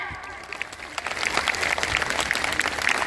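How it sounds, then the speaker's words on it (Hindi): Rally crowd at a Bahujan unity conference breaks into loud, sustained applause, dense clapping that swells after the first second and keeps going strong outdoors. "इन युवाओं के लिए साथियों जोरदार तालियां हो जाएं"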